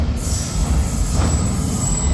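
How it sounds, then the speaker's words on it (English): London Underground tube train arriving at a station platform, a steady loud rolling rumble with a thin high whine of wheels on rail running throughout, no talk. "a tube train should be arriving"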